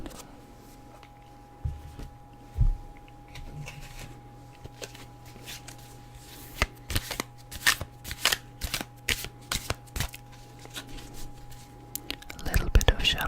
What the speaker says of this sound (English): A little bit of shuffling again.